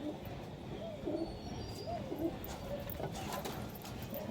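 Desi high-flyer pigeon cooing softly in repeated low, rounded coos, faint and fairly close, over light background noise.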